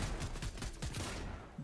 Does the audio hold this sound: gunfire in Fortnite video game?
yes